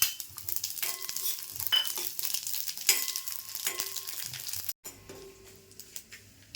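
Cashews and poppy seeds fry in a pan for a Nag Panchami sweet, giving a steady close sizzle with scattered stirring scrapes and light crackles, briefly dropping out near the end before resuming.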